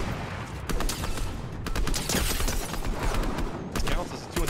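Rapid bursts of video game gunfire crackle close and loud, volleys of shots stopping and starting over several seconds, with voices talking over them.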